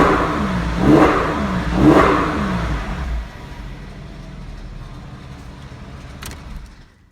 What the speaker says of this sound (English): This thing sounds awesome with those new mufflers though.